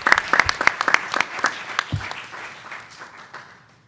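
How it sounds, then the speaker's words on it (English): An audience claps for panelists after a venture capital discussion session. Distinct, fairly close hand claps start loud and sparse, then thin out and fade away over a few seconds. "Give our panelists a round of applause."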